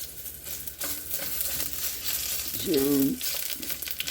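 Onions fry in an overheated pan with a steady crackling sizzle close up, broken by stirring scrapes while someone speaks briefly.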